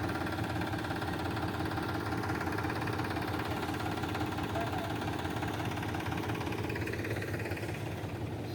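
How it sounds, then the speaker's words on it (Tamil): A tractor engine runs steadily at a plinth beam concrete construction site, a loud continuous low rumble with engine vibration throughout, no pauses. "ஸோ நம்ம இது டிராக்டர் அரேஞ்ச்மெண்ட் பண்ணி இப்போ நம்ம வெளியில் எடுக்கிற ப்ராசஸும் போயிட்டுருக்கு"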